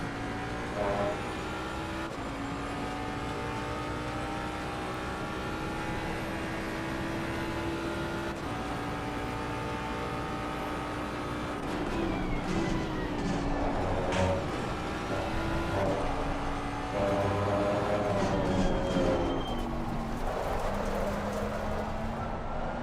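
BMW race car in Assetto Corsa Competizione on a fjord track, its engine a steady sustained drone with shifting pitch throughout, growing slightly busier and louder in the second half, with no talk.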